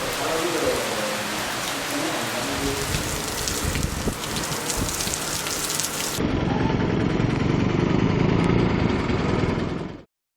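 Heavy rain pours steadily over Kadapa district near Nandaluru and Railway Koduru, a dense continuous hiss that grows fuller and heavier halfway through before cutting off abruptly; faint voices sit underneath.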